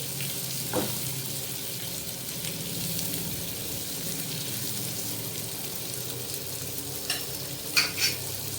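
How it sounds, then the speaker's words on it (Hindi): Two medium onions fry in a pan for Afghani chapli kabab with a steady, close sizzle. Spatula stirring scrapes come through near the end. "ये मैं इसमें डाल दूँगी और हल्का हल्का सा इसको मैं सुनहरा कर लूँगी। ये देखिए, ये फ्राई हो रही है।"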